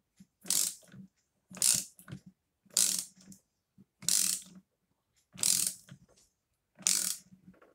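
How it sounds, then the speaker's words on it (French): Ratchet wrench tightening a screw on an AM6 moped engine, six quick clicking bursts in a steady rhythm, close and clear with silence between strokes. "Et là, tu visses."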